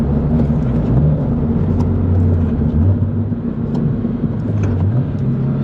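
A car engine hums and drones steadily from inside the cabin while driving, its low pitch rising and falling gently with the revs under a constant road rumble, and nobody speaks.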